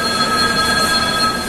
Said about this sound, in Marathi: चालली ट्रेन